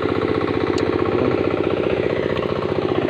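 A boat engine runs steadily nearby, a loud rhythmic chugging thrum with a rapid knocking pulse and a faint metallic tick now and then, no voices.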